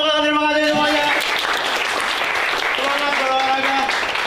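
Applause from a school audience at a sports event, a broad wash of clapping running under a man's sung or drawn-out voice at the start and again near the end.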